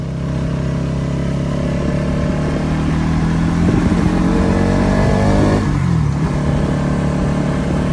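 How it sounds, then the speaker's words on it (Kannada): A Bajaj Pulsar NS200 BS6 200cc motorcycle engine hums steadily and loudly while riding on a curvy road, with a deep, bassy drone and a brief shift in pitch midway, with no talking. "ಬೇಜಾನ್ ಸೌಂಡ್ ಇದೆ, ಹೆವಿ ಬೇಸ್ ಇದೆ ಮಾತ್ರ ಗಾಡಿ."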